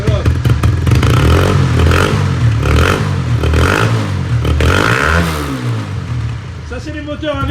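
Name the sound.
large 4000 cc engine warming up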